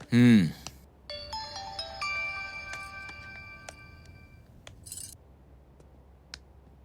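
A mobile phone ringtone plays a bright, repeating electronic melody close by, starting after a loud opening burst and fading out, with faint clinks and ambient noise underneath.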